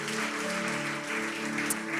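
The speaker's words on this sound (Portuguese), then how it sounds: "Aplauda o Senhor." A church congregation claps continuously, a dense, even patter of applause with no voices standing out.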